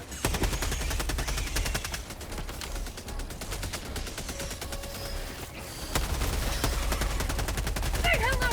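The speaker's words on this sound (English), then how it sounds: "the machine gun turret will gladly shred you" Machine gun turret in the video game Helldivers 2 firing continuous rapid bursts, loud and dense throughout, with brief dips in the barrage and the rattle swelling again toward the end.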